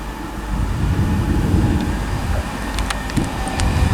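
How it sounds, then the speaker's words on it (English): An LNER passenger train from Newcastle to London King's Cross arrives at Durham station on the East Coast Main Line, a steady close rumble of wheels and carriages with a few faint squeals near the end. "next train to arrive is going to be the 1438 LNER service from Newcastle to London"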